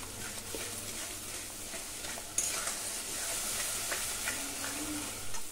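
Spice masala for a spicy chicken curry, loosened with spice-rinse water, is stirred and fried in oil in a pan. A steady close sizzle runs under repeated scraping stirs, with a brighter hiss surging partway through. No one speaks.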